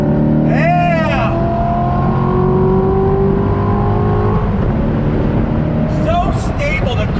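A C7 Corvette Grand Sport V8 revs hard and accelerates through its gears, with its loud engine note climbing in pitch, dropping at a shift, then rising again. Someone speaks over the engine.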